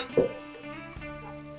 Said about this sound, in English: We'll saute these in our bacon grease.